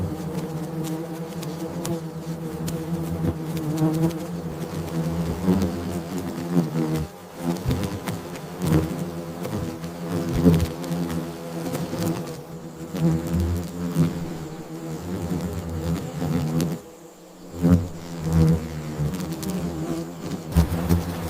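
Aggressive paper wasps buzz steadily around their nest as a huntsman spider waves its front legs at them, a dense and continuous insect drone with no voices.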